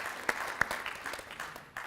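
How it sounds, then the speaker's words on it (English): Brief applause at an awards event honoring a transportation solutions champion, a short burst of clapping with a couple of sharper claps standing out, moderately loud. "a round of applause for"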